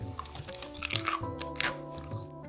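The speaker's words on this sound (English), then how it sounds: "These guilt-free pakora have all the flavour and all the crunch" Crisp crunching and chewing of oil-free pakoras, a run of close bites and chews layered over steady background music.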